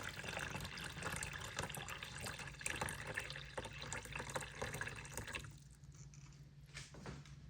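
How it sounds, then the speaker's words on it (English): Water is poured into a yogurt maker, a mix of cold water and kettle-boiled water, making a steady, close splashing flow that runs for about five seconds and then stops abruptly. "I'll just fill this with water about halfway"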